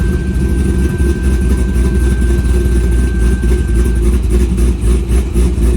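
A cammed Corvette V8 idling loud and close, a dense, rumbling low throb with a choppy, uneven lope running steadily throughout, no voices.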